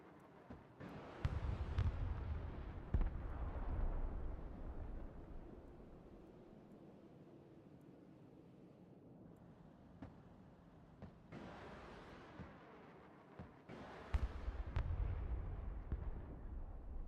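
Missile strike explosions in the Broken Arrow video game, a few heavy booms with deep rumbling tails separated by a quieter stretch, fairly distant and soft overall.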